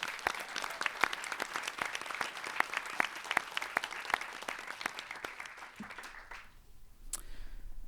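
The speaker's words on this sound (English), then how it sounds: "Let's give a big round of applause to all of our dedicated mentors." Scattered, fairly sparse clapping from a small audience at a design demo day, honoring the mentors. Distinct individual claps ring out in a loose rhythm before fading out near the end.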